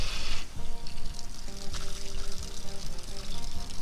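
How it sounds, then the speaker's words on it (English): Water runs out of a hose freshly attached to an outdoor faucet valve and pours steadily in a continuous splashing trickle, with faint tonal hum and clatter in the background. "Let a little water run out"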